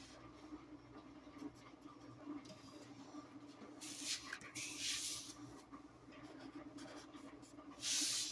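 A Sharpie marker inking a drawing on paper gives soft, scratchy strokes up close, coming in uneven bursts with brief pauses and a louder squeaky stroke near the end.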